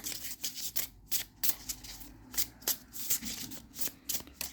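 Tarot cards being shuffled by hand, a quick series of crisp riffling bursts and soft slides repeating in an uneven rhythm, close and fairly quiet.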